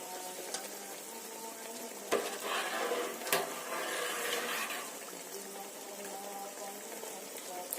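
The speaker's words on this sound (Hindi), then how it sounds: "ऐड करेंगे इसमें अपने चावल" Rice goes into a pot of spiced liquid for chicken mandi, with a rushing, bubbling pour and a couple of sharp clinks over a steady background sizzle, no talking.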